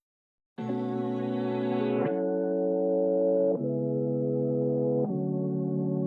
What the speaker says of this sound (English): So if you bring in your high cut, that's going to sound like this.